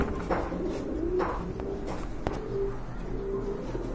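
A racer pigeon coos softly in repeated low notes, close by, over a steady background hum with no talk.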